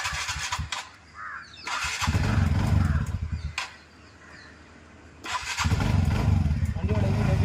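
A TVS Ntorq 125 scooter engine, freshly rebuilt with original spares, crankshaft, cylinder kit and valves, revs up in two bursts separated by quieter idling, fairly close by, with someone speaking between the revs.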